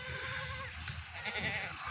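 A pink-coated goat with light eyes bleats close by in a stretch of farm sound, one drawn-out call standing clear of a steady background.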